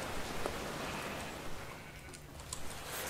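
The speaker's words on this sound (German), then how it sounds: "Oh, es regnet." Rain in Minecraft gives a soft, continuous patter, with a few faint ticking drops standing out here and there and no talk over it.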